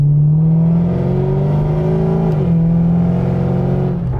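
A car revs and accelerates hard after a wash, with its engine pitch climbing steadily as it speeds up. A brief dip marks a gear change before it pulls again, loud and close with no talk.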